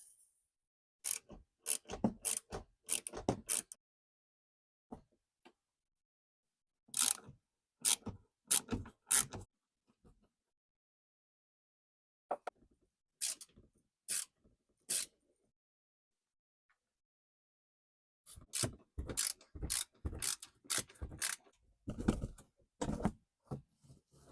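Clicks and short scraping bursts from screws being worked out of a trim panel on a Kia Rio during a transmission fluid check, coming in tight clusters separated by silent pauses, close and fairly quiet, with no talking.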